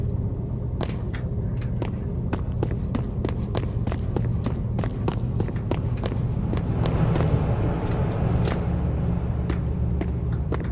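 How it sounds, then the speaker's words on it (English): Heavy footsteps in the Five Nights at Freddy's horror game, a run of sharp thudding steps over a constant low rumble of ambient drone, steady and fairly loud throughout. "I hear some big footsteps"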